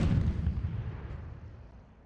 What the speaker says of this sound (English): Disadvantage, still more and more towers are able to shoot at me.